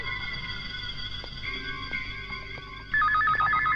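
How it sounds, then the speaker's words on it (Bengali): A telephone rings in a dramatic film scene, a steady electronic ringtone that switches partway through to a louder, warbling trill, heard close with no talk over it. "এই সময় আবার কার ফোন?"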